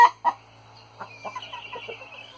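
Laying hens and a large rooster cluck close by, a couple of loud clucks followed by softer, scattered clucking and a faint higher call over a low steady hum.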